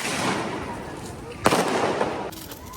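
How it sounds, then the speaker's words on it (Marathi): Firecrackers go off during a Bhaubeej family celebration: a continuous crackling roar of bursts, one louder sharp bang in the middle, with people talking and calling out over the noise. "खूप फटाके फोडून झालेले आहेत"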